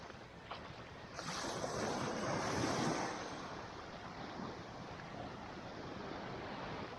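Sea waves wash onto the shore at Bolinao on a breezy morning, a steady roar of surf that swells louder for a couple of seconds and then settles into a continuous wash, with wind buffeting the microphone and no talking.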